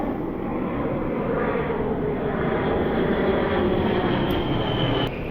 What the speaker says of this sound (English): I have an airplane that's coming up to me. Here he comes. Here's a warthog right there.